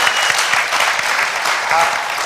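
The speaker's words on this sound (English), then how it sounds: "let's give Miss Romy a hand of applause" An audience at a Computer Science Education Week kickoff applauds the moderator of a panel, a steady, close wash of clapping that continues without a break.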